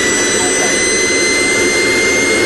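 Steady, loud roar of an airplane's single jet engine mounted in the rear of the fuselage, a dense broadband rush with a high, constant whine throughout.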